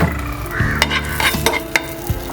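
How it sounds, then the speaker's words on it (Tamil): Cashews and raisins frying in ghee, a close, lively sizzle broken by several sharp scrapes and taps from stirring in the pan, heard alone without speech. "கிஸ்மிஸ்ஸு, முந்திரி பழத்தை இதில் போட்டு வறுத்தெடுத்துக்கணும்."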